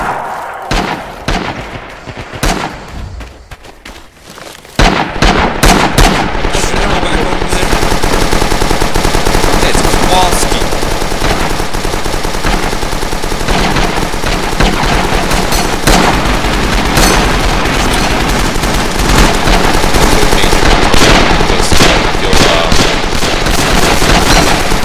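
Sustained machine gun fire in Rising Storm/Red Orchestra 2 jungle combat, loud and dense bursts running continuously after a quieter opening few seconds, with overlapping gunshots throughout.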